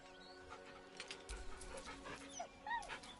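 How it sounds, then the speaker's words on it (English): A dog whimpers nervously beside a corpse in the video game Baldur's Gate 3, faint high whines and soft yips rising and falling over quiet panting and low background sound. "The dog whimpers nervously, as if to urge you on."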